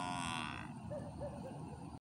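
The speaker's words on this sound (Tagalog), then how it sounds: "Isang kalabaw." A water buffalo gives a low, drawn-out bellow that fades out, followed by a few short grunting calls, close by with a rustling outdoor background on farmland by the sea.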